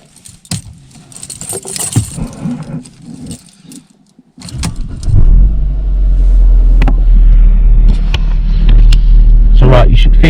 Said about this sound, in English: now I'm going to start the engine up.